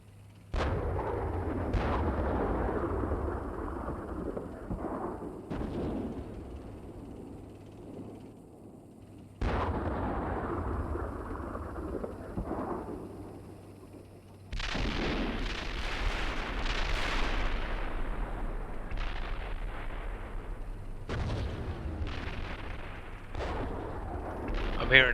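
Indirect artillery fire lands in a military tank video game, a series of heavy booms and rumbling blasts spread across the clip, with bursts of gunfire and radio-style chatter from players over the top.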